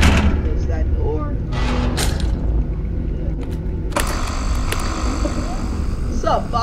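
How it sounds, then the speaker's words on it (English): A door slams shut with a mechanical clunk in the horror game Five Nights at Freddy's Rewritten, set against a steady low hum, with a second sharp mechanical burst a couple of seconds later. "Close that door."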